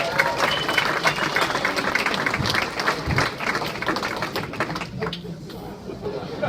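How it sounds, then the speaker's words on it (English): A comedy club audience at The Laughing Derby breaks into loud, dense applause with scattered cheers, sustained for several seconds before tapering slightly at the end. "Round of applause for some music"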